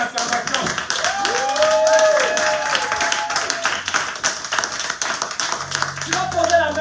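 Church congregation clapping and cheering in praise, sharp rapid claps mixed with shouts and sung or called-out voices over a full, busy room, with music-like tones underneath.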